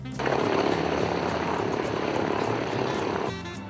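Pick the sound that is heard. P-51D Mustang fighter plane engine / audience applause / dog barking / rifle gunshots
P-51D Mustang fighter plane engine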